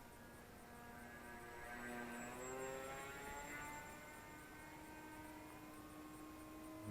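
A Volantex Ranger G2 RC plane with an 8x4 propeller flies past as a faint, distant buzzing whine. The pitch sweeps up and down as it passes, and the buzz holds steady throughout.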